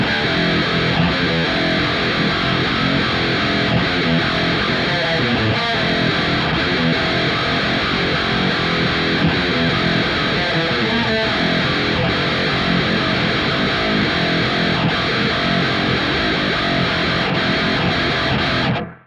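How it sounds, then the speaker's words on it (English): Metal guitar through a Mooer Prime M2, blade distortion driving an EVH 5150 amp model into a CT Revo 4x12 cab with a noise gate, plays a dense, heavily distorted riff continuously and loudly for the whole stretch. "the blade distortion running into the EVH 5150, then we're going into the CT Revo 4x12 cab"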